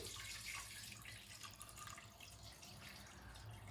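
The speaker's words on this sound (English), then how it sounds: "Now I'm gonna add enough water just to cover the chicken." Water pours steadily into a pot over chicken for a Khoja-style biryani, a soft continuous splashing and trickling that stays quiet and even throughout with no talking.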